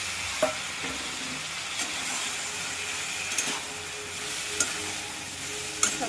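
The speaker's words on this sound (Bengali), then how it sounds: "এবার ভেজে রাখা আলুগুলো দিয়ে দিলাম।" Fried potatoes tossed into a pan of masala, sizzling steadily up close while a spoon scrapes and knocks against the pan every second or so, with no voices.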